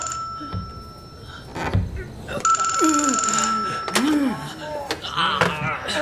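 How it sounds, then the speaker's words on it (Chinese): A telephone bell rings in repeated electronic bursts with steady high tones, hidden inside a wall, while strained voices of wounded soldiers shout and groan over it nearby. "团长，这墙里好像有个电话。"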